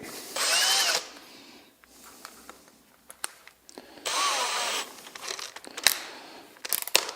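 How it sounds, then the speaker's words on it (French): Power drill with a small countersink bit boring holes in wood for a birdhouse, two loud whirring bursts of about a second each separated by quieter handling clatter and knocks. "Et je vais percer 4 trous."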